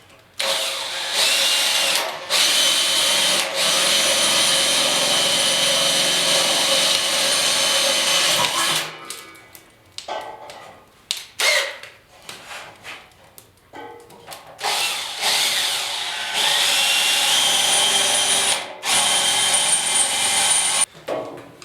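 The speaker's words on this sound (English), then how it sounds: "I'm drilling all pilot holes first so I get it a little bit more accurate" A power drill bores pilot holes in the rear fender and tailgate bodywork of a 1956 Ford pickup, running in long loud whirring bursts that stop and restart, with short pauses and clanks between them.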